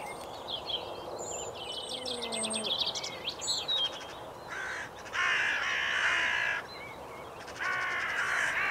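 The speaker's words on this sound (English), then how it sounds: "with all the noise it was making, it started to attract more hooded crows" Hooded crows caw repeatedly from a moderate distance, harsh calls in bursts over a busy chorus of other birds chirping in the background.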